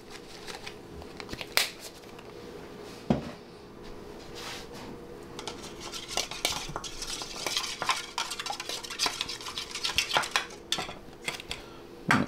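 Sriracha seasoning being stirred onto a lobster tail in a pan, with scattered scraping and clinking of a utensil against the pan over a steady low background, some louder clicks standing out.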